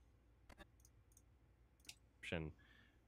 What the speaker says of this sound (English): It's just clicking his mouse.